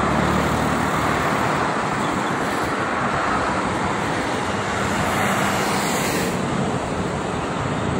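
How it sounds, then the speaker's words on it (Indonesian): Steady roar of light traffic on the Jakarta–Cikampek toll road in the morning, a continuous broadband wash of passing vehicles with no pauses, heard from the roadside. "Untuk lalu lintasnya ini sangat lancar dari kedua arah ini."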